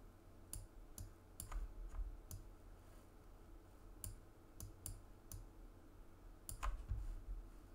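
Sparse, separate key clicks on a computer keyboard, a dozen or so isolated taps spaced irregularly, faint and close against a low background hum, with no voices.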